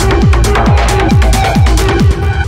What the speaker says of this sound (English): it's just a white noise with a bandpass filter with an envelope on it